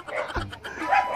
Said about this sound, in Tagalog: Nagbabatok na pati ako ng mga aso.